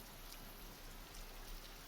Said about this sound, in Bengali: কাজ করতে করতে দেখি আবার বৃষ্টি চলে আসছে